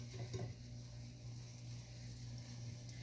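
Bread and egg toast fries in desi ghee, a soft continuous sizzle with faint stirring or pan contact near the start, heard alone at low volume.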